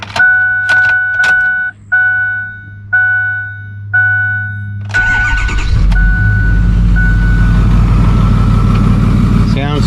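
Warning chimes ring repeatedly before a Ford Super Duty diesel truck engine cranks and fires after a fuel filter replacement, then settles into a loud, steady diesel idle close by.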